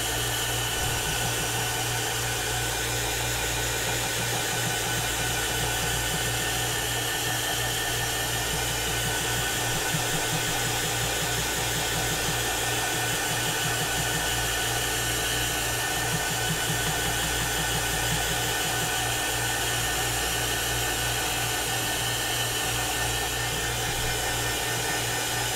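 A hair dryer blasts over wet paint on a woodgrain craft piece, a loud, steady, close whirring roar that runs unbroken for the whole stretch.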